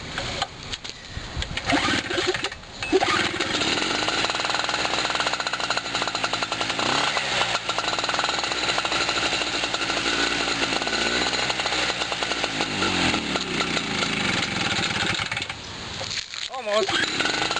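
A small portable generator engine cranks on a cold start with the choke set, catches, and runs with a loud, steady, rough drone for most of the stretch, with a brief dip near the end. Someone talks over it.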